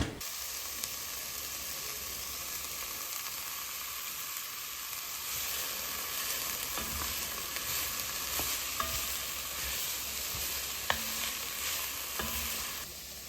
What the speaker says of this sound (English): So I'm just going to saute this a little bit.